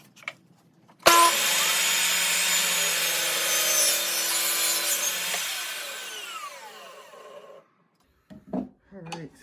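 A power saw cuts through a piece of wood in one loud, sustained pass of about six seconds that winds down, followed by brief faint talk.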